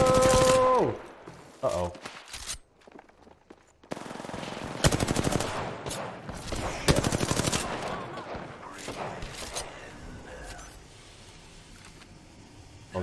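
Gunfire in the Apex Legends video game, sharp bursts and rapid automatic fire in close, irregular volleys separated by brief pauses, with a player's exclamations in between.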